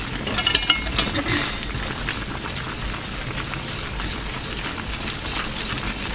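Creamed spinach is stirred in a pan, a continuous soft frying hiss with light utensil clinks against the pan early on, close and fairly loud.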